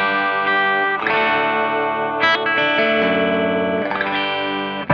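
Clean electric guitar played through a British AmS amplifier, strings stroked softly, sustained chords ringing with a light, slightly crunchy gain, a few gentle restrikes over five seconds.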